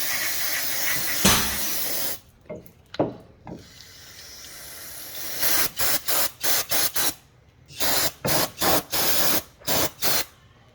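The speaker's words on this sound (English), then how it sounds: "So I'm gonna hit it with some brake cleaner." Brake cleaner sprays onto the rear brakes of a 2017 Nissan 370Z with the sport brake package, a long loud hiss followed by a string of short, evenly spaced bursts, close and with no talking.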